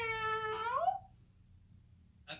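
A voice imitates a cat's meow, one drawn-out, falling 'meow' heard alone and close, followed by a brief faint noise.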